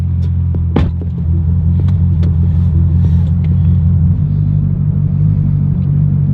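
A wrecked Z06 Corvette running with low oil pressure gives off a steady, loud, deep engine rumble that drones throughout, with a few faint clicks and knocks on top.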